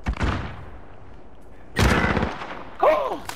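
Gunfire in the multiplayer shooter Call of Duty: Modern Warfare, heard as short loud bursts of shots breaking through quieter game sounds during a hardcore Shoot House match, with talk nearby.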